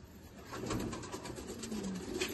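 Released pigeons coo softly at a moderate distance, a soft stretch of low murmuring calls over a faint, even background.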